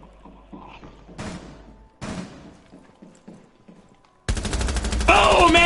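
Bursts of gunfire from a Rainbow Six: Siege ranked match, a few short loud volleys separated by pauses, then a sustained dense stretch of shooting near the end, with players talking over parts of it.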